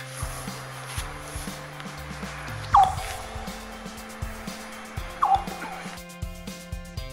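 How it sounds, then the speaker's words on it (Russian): Golf balls striking frozen lake ice give two sharp, bright chirping, bird-like pings a couple of seconds apart over low rumbling and scattered thumps. "удар мячика по льду вызывает не треск, а звуки птиц"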